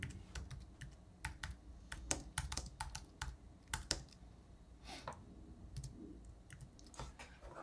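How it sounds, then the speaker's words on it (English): Rapid typing on a computer keyboard, close and fairly quiet, with irregular bursts of clicking keys and occasional louder keystrokes and no voices. "Oh, come on, fingers type."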